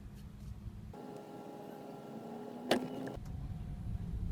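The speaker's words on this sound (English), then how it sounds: "there's a pump giving the brakes pressure" An electric brake pressure pump whirs in a Beijing EV160 electric car, a steady motor hum that starts about a second in and runs for a couple of seconds under light cabin noise, with one sharp click near its end.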